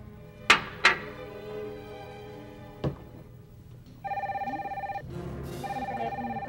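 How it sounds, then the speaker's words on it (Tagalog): A telephone rings in a comedy sketch, with its electronic tone sounding in two close bursts. A few sharp knocks and thuds come just before, and no one speaks. "Ang telepono nito, ring ng ring."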